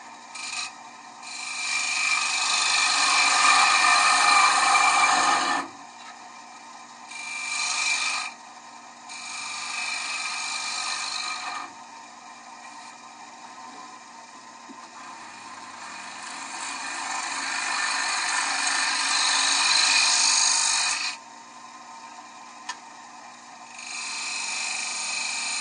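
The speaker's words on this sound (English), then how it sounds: "that gouge gave me a decent surface on the face grain" A gouge cuts the face grain of a wooden bowl spinning on a lathe. Long loud bursts of hissing, rasping shaving noise are separated by short quiet pauses, and no one speaks.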